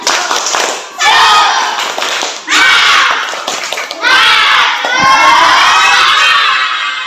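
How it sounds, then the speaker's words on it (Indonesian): A class of fourth-grade schoolchildren and their teacher loudly shout a rhythmic spirit chant in a classroom, coming in three or four sustained bursts of massed young voices with short pauses between them. "Bu Lutfi ajak tepuk semangat dulu yuk."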